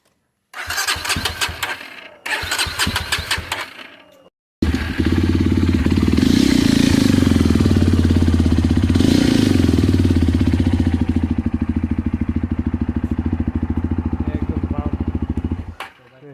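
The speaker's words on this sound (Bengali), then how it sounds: "বাইকটা আমরা একটু স্টার্ট করে দেখাইতেছি তোমাদের" A ten-month-old motorcycle with 3,950 km on it, cranked in two short bursts, a pause, then catching and running with a loud, steady close engine drone before cutting off.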